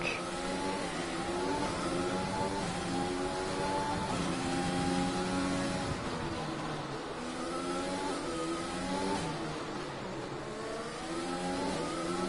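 A race car engine in a Singapore GRL Round 8 race, revving and shifting through the gears while the car runs a hairpin with a kick of oversteer. The note stays loud and continuous, rising and falling throughout.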